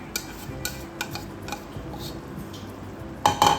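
Beaten egg being mixed into noodles in a pan: light clinks and taps of a utensil against the pan, ending in a couple of sharper metallic knocks.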